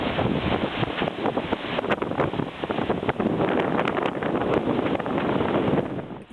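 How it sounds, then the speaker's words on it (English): Strong wind driven by a wildfire's smoke column roars steadily and loudly across the microphone, a dense continuous rush of gusting air with no pauses. "The wind that this column's creating is unreal."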